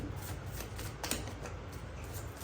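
Tarot cards being shuffled by hand at close range, a soft continuous riffling and sliding of card stock with faint ticks, alone and quiet.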